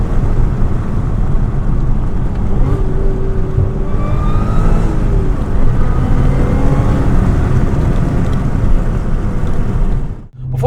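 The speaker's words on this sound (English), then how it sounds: "Just listen to that supercharger whine." A supercharged Audi S4 with a six-speed manual and a dual pulley, making 440 wheel horsepower, accelerates hard with a loud engine roar. A rising supercharger whine climbs in pitch over it across several pulls, then the sound cuts off abruptly near the end.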